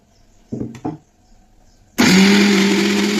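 A mixer grinder grinding soaked lentils into vada batter: after two short knocks and a pause, the motor bursts on loud and close, whirring steadily to the end.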